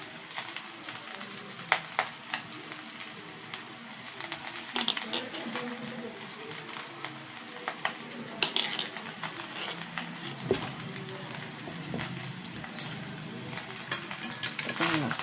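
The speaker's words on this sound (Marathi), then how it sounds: "तर आता आपण ह्याच्यामध्ये हा बारीक कट केलेला कोबी घालून घेऊया वरतून" Finely chopped cabbage stir-frying in oil for fried rice, a steady sizzle with scraping and clinks of a spatula against the pan throughout, some faint background voice in places.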